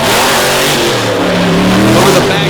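A mud racing truck's engine revs hard and loud, a continuous roar at a Monsters 'n' Megas 2023 mud racing show, with a commentator talking over it.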